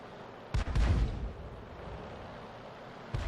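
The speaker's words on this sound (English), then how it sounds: "they're exchanging fire" Tank cannons exchanging fire in the World of Tanks game: a heavy booming shot with a rolling low rumble, then a second sharp report near the end, over steady background noise.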